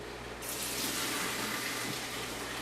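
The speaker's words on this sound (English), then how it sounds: "And you pour it in your mixture." A hot melted mixture is poured into a liquid, giving a steady, close rushing and splashing pour that runs without a break, with no voices.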